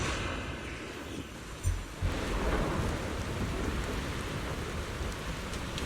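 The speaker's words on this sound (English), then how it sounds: "Thunder and lightning crackles, and rain threatens to swallow the entire hidden realm." Thunder rolls and heavy rain pours steadily in a stormy hidden realm in the video game Zenless Zone Zero, a dense continuous downpour with a low rumble and a sharp crack near the middle.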